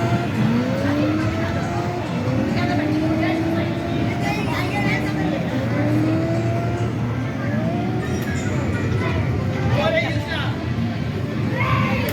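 An arcade driving game set on a Hong Kong track plays engine whines that rise and fall with repeated tire squeals, amid crowd babble and voices in a busy arcade.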